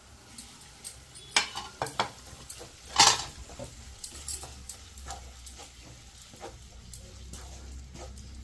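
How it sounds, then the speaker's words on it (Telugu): Ginger garlic paste frying with prawns for an egg and prawn curry, a soft sizzle under repeated clinks and scrapes of a spoon against the pan, one louder knock midway. "బాగా పచ్చివాసన పోయే వరకు వేపాలి అల్లం వెల్లుల్లి పేస్ట్"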